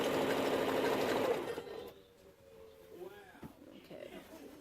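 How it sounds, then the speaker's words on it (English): A sewing machine stitches glitter quilt fabric right sides together at a quarter-inch seam, running loud and steady for about a second and a half before stopping, with quieter handling sounds and light voice afterward. "Sew it on the right side."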